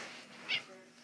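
A house cat gives a single short meow in the middle, close and moderately loud, with a person talking around it.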